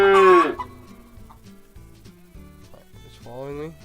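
Black cow mooing in Agrar Simulator 2013, two drawn-out low moos, one at the start and one near the end, with quiet farm game ambience and some talk in between.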